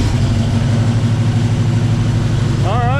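A 1968 Chevelle with a 396 big-block V8 and Holley Sniper fuel injection idles high and loud with a steady throbbing rumble, a voice cutting in briefly near the end.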